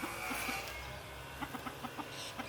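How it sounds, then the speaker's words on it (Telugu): Chickens cluck in a short run of quick, close, soft calls while pecking at feed, with a faint outdoor background. "అటు కోళ్ళని చూపించావు సొప్ప తింటుంటే."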